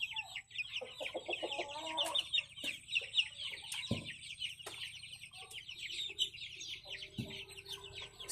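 Young roosters and hens cluck and call continuously in a farmyard flock of pullets, with overlapping chatter from several birds at close to moderate distance and a few sharper squawks.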